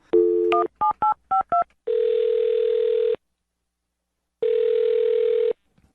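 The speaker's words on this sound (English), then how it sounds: "I'm going to dial her phone number right now." A phone number is dialed: a quick run of touch-tone beeps, then two long steady tones separated by silence, with no voices.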